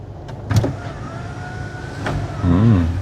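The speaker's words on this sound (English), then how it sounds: "So how do you open the sunroof?" The sunroof of a 2026 Mercedes-Benz GLC 300 opens with an electric motor whine running through the clip, a few soft clicks near the start and a brief voice at the end.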